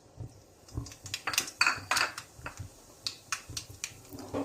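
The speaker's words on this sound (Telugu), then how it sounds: "ఆవాలు వేసుకుందాము" Mustard seeds crackle and pop in hot oil for Telugu-style upma (uggani), a rapid irregular run of sharp close snaps over a low background sizzle.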